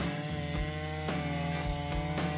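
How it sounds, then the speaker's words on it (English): A big chainsaw runs steadily while cutting through a tree trunk, a loud continuous buzzing engine drone with slight periodic dips in pitch, close and alone with no voices. "Felling a tree with a chainsaw is a task that requires precision and high skill."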